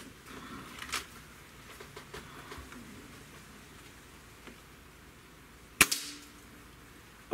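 Single shot from a Cabela's Gamo air rifle, a sharp close crack standing out from a quiet outdoor background with faint scattered ticks.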